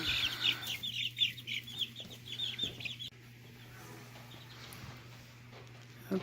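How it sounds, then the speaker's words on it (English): Baby chicks peep and chirp rapidly while eating wheat fodder in a basement grow room, busy and close for the first few seconds, then dropping to a quiet room hum. "Now we're going to see if the little baby chicks will eat it."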